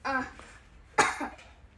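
A voice is followed by a single sharp cough, then a softer catch of breath, close and fairly quiet.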